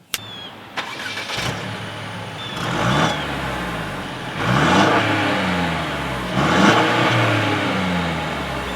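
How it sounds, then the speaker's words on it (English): 2017 Mercedes-Benz E-Class with dual exhaust starts up and idles, then gets revved three times in rising and falling swells, a deep engine note heard from behind the car outdoors. "So as always, here is that exhaust clip."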